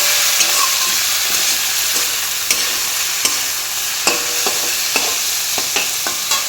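Salted fish is mixed in a hot pan, a loud continuous sizzle punctuated by regular sharp spatula taps and scrapes against the metal, with no one speaking.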